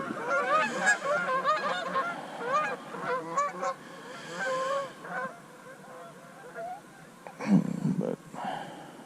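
Geese honking from a small flock, repeated nasal calls overlapping in quick bursts, fairly close and clear, thinning out midway before a louder flurry of honks near the end.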